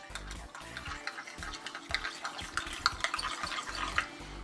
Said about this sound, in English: let me get these good and stirred up